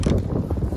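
Wind gusting over a boat on a warm day among palm trees, heard as a loud, close rumbling buffet with low creaks, with no talk over it.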